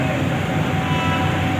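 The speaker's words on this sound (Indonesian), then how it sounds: "Nah, ada kereta api lewat lagi." Train rumbling past close by, a steady broadband roar of rolling stock with no distinct clacks, loud and continuous without talk.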